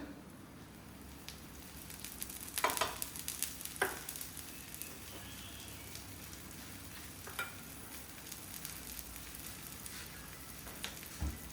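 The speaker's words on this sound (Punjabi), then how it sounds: "ਥੋੜਾ ਥੋੜਾ ਸਾਈਡ ਤੋਂ ਲਾ ਦਾਂਗੇ ਆਪਾਂ ਆਇਲ" Oil hisses and sizzles on a hot tava griddle as it is spread around the edges, a soft steady crackle with a louder spitting burst early on, then settling to a quiet sizzle.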